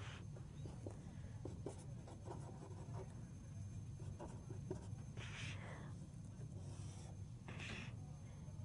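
A pen or marker draws on a board or paper during a math lecture, giving faint, scratchy strokes in short, irregular bursts over a steady low background hum.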